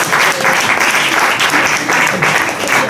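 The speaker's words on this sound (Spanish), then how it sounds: "Oye, un aplauso, ¿eh?" Audience at a medical conference on integrative medicine applauding loudly, a thick continuous roar of clapping from a full room, sustained and close.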